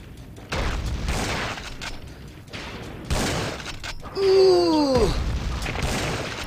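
Gunfire in the video game Schuld during a fight with an arms dealer: a few booming shots mixed with crashing impacts and a falling whistling tone, moderately loud over game ambience.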